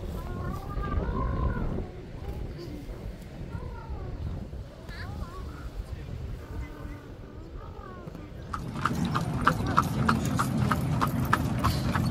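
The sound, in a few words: horse hooves clip-clop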